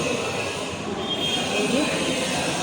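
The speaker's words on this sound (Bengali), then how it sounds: "ওইটা হলো আমাদের ট্রেন।" A Kolkata-bound train at a railway station produces a continuous rumbling roar with a thin, high, squealing tone running through it, steady and fairly loud throughout.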